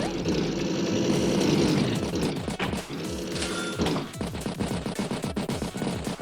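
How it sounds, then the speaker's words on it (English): A bomber aircraft striking an infantry unit in the turn-based game Advance Wars, a droning propeller tone giving way to a rapid series of sharp machine-gun-like bursts and explosions. "Bomber advancing, strikes the infantry unit there."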